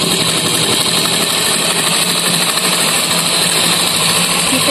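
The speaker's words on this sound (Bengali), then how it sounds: "এই যে মেশিন স্টার্ট করে দিলাম।" An electric sewing machine runs continuously while stitching a strap onto a bag made from a rice sack, a loud, dense, steady mechanical rattle close by with no pauses.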